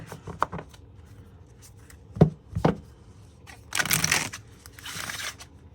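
Tarot cards being shuffled in quick riffling bursts, with a few sharp taps and snaps, close up and fairly quiet.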